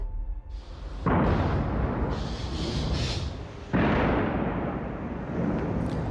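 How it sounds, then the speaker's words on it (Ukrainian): Russian artillery fires on Bakhmut in Ukraine's Donetsk region: two heavy booming blasts, each rolling into a long, loud, rumbling roar that fills the whole stretch with distant thunderous noise. "Вы только что слышали, как россияне вновь открыли огонь по Бахмуту Донецкой області"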